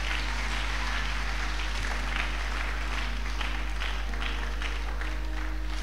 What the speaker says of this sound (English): Can you clap for Jesus right now?